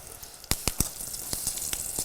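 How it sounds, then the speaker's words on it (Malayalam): Curry leaves and dried red chillies hit hot oil with mustard seeds, giving a steady close crackling sizzle broken by several sharp pops and spits. "കടുക് പൊട്ടി കഴിഞ്ഞ ഉടൻ തന്നെ കറിവേപ്പില കുറച്ച് വറ്റൽ മുളകും സൂക്ഷിച്ചിടണം"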